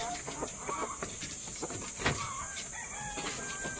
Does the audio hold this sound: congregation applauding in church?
no